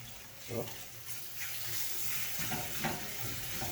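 Jamaican jerk shrimp sizzle steadily in a pan over a low flame, a continuous close frying hiss broken by small clicks and stirring taps.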